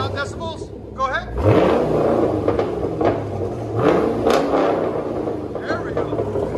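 A Chevy Camaro engine, either the 3.6L V6 or the 6.2L V8, revs hard twice with loud swelling bursts over a steady rumbling idle. People talk nearby between the revs.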